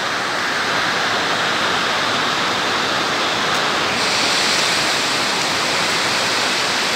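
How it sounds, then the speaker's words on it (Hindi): Water flowing along a small canal in Bahrain, a loud, steady broadband rush that holds unchanged throughout with no pauses and no voices. "ये चलता पानी भी है, ये जिसे हम नहर कहेंगे छोटी"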